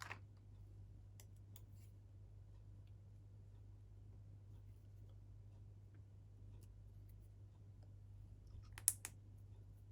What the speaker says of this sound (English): Nice little click as it goes in.